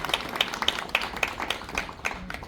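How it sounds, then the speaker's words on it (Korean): Welcoming applause at a commemorative ceremony, with scattered, fairly faint claps from a small audience spread across the whole moment. "환영의 박수를 부탁드립니다"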